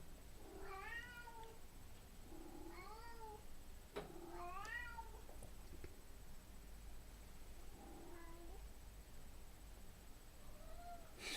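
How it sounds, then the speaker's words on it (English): Two house cats meow back and forth in a quiet room, several drawn-out, rising-and-falling calls in separate bursts spread through the stretch, close and clear over a low steady hum. "I have never met cats who talk as much as these two do."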